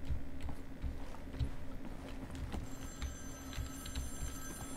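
A telephone rings in the video game Wolfenstein: The New Order, a quiet repeating electronic ring over a low background hum with no talking.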